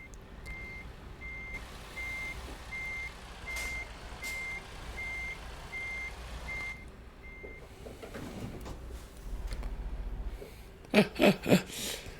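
Steady, evenly spaced truck reversing beeps in American Truck Simulator over a low engine rumble, fading out, followed by a few loud thumps.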